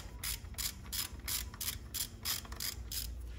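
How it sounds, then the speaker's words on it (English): A ratchet with a deep 12 mm socket loosening a bolt during a 2010–2015 Toyota Prius engine replacement, giving about ten quick clicking bursts in an even rhythm, close and fairly quiet. "use the deep 12 millimeter socket from the kit"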